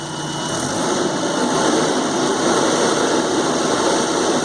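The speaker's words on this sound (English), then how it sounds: "Got a good response from the engine." A Nissan car engine with an accelerator fault (code E-24) idles steadily, a continuous loud hum and rattle with no pauses and no voices.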